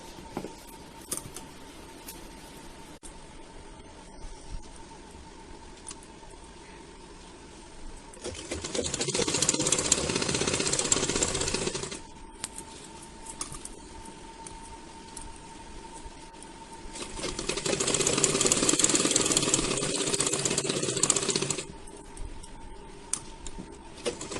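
A sewing machine stitches a princess cut blouse in two whirring bursts of several seconds each, separated by a quiet stretch of faint handling sounds.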